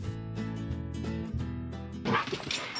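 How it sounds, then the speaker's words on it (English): Several dogs bark and yip excitedly at a country home, with rapid, overlapping, loud barks in an uneven rhythm, followed by a burst of noisy commotion. "I think my dogs have gone berserk today."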